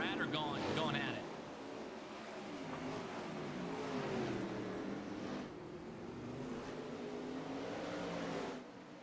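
A pack of race cars in a sim racing video game drones and revs continuously, engine notes rising and falling together under steady commentary talk.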